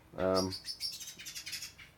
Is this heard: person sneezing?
no